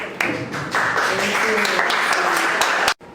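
An audience at a library event applauds, a full steady burst of clapping that starts abruptly, holds for a few seconds and cuts off sharply at the end.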